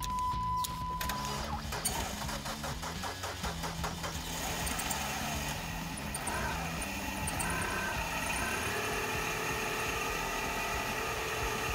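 Car engine starting up after a jump start from a Micro-Start XP-10 portable jump starter, then settling into a steady, slightly rattly idle that runs on continuously nearby.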